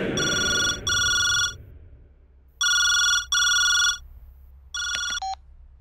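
A telephone rings in a drama scene: three pairs of bright electronic ring bursts spaced by short pauses, loud and close in an otherwise quiet room.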